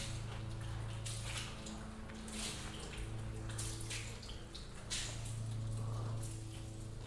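A wash mitt sloshing and wiping water across a car panel coated in graphene sealant, with repeated wet swishes over steady running water, close and moderate.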